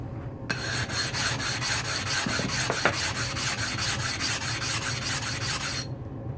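A coarse carborundum sharpening stone lapped flat on a diamond plate, making a continuous gritty rasping scrub with a rapid back-and-forth rhythm for several seconds, close and steady, then stopping.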